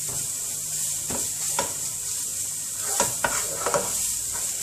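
A spoon scrapes and stirs tomato paste through sautéed onions in a pan for a cauliflower kısır, a soft sizzle running underneath several short scraping strokes close by.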